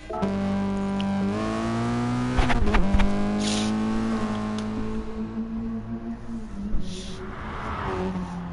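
A Gr.4 race car engine in a racing video game at the Sardegna circuit drones loudly and steadily, rising and falling in pitch as it revs and shifts, with brief tire squeals mixed in.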